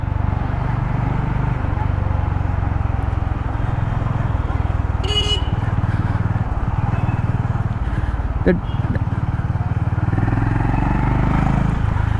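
Honda H'ness CB350 motorcycle riding through traffic, its engine droning steadily throughout with road noise, a short car horn toot midway and other vehicles passing, while the rider talks continuously.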